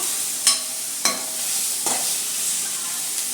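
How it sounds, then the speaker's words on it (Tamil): Vegetables with Maggi masala and salt being stirred in a frying pan, a few sharp utensil scrapes against the pan over a continuous close sizzle, no voices. "ஸோ இப்போ நம்ம எல்லாம் நல்லா மிக்ஸ் பண்ண போகிறோம்"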